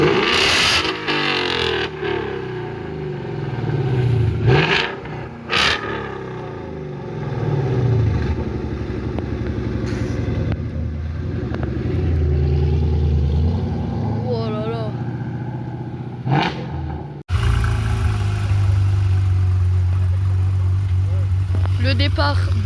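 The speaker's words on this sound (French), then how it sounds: "Le départ de la GT3 RS." Porsche GT3 RS leaving a cars and coffee meet in Annecy, its engine idling and then revving in several rising and falling pulls amid other car engines and outdoor crowd noise, with people talking throughout.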